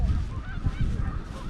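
A flock of geese honking continuously and close by, overlapping calls in a steady noisy chorus with no talk over them.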